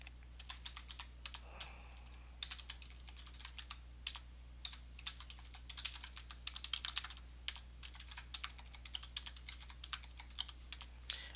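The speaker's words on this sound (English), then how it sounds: "Go here, type in just some random name." Quiet, close clicking of fingers typing on a computer keyboard, a steady patter of individual keystrokes with short pauses over a faint low hum.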